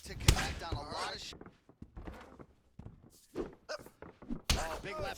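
Punches thudding in the UFC 4 fighting game: a couple of sharp, loud impacts at the start and end of the stretch, with quieter thumps between and commentary voices talking over them.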